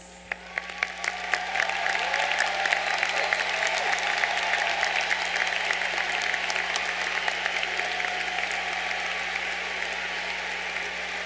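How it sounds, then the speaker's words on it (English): A large audience at a graduation ceremony breaks into sustained applause as Latin honors graduates stand, a dense, even clatter of clapping that holds steady and slowly eases off. "let's give them a round of applause."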